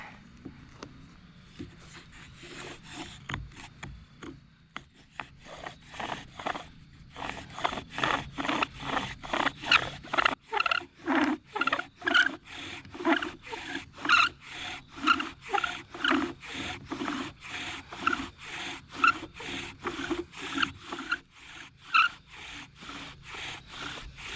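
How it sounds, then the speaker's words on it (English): Rhythmic rasping strokes of a bow drill spinning a wooden spindle under a stone bearing block, starting uneven then settling into a fast, steady back-and-forth sawing pattern. "now let's do some bow drilling with the stone bearing block"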